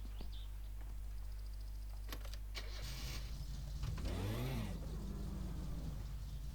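A car in the video game My Summer Car starts moving off, with a steady low engine drone, a few clicks, and a rising then falling whirring pitch as it pulls away, heard alone without talk.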